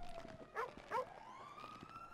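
Two short, sharp barks from a dog in GTA V, close together and fairly near, with a police siren wailing steadily in the background.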